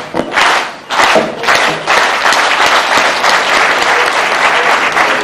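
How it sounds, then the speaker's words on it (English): Lecture audience performing locomotive clapping, loud bursts of applause that start and stop in surges before settling into continuous crowd clapping with a few thuds. "One of the things I learned in this college is locomotive clapping from Dr. Mrs. Yakini."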